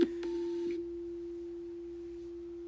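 A struck bowl rings with a clear, pure sustained tone that slowly fades, after a couple of brief taps at the start.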